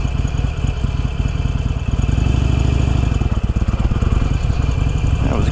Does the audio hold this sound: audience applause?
no